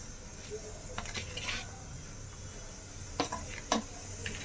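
Rava ladoo mixture of semolina, sugar and copra being stirred in a pan, giving soft scraping and a few sharp spoon-against-metal clicks over a steady low background hiss.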